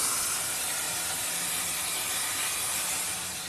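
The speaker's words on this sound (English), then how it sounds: "and then all of the steam coming out everywhere" Steam hisses loudly and steadily from wet lagging on a steam engine's boiler, where trapped water is boiling off. The broadband rush stays close and continuous, easing slightly at the end, with no voices.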